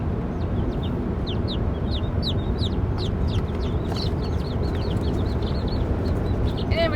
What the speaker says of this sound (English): And then I got this gray chicken.